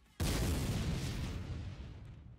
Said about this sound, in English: The core can also be shot after it was launched to make the explosion even bigger.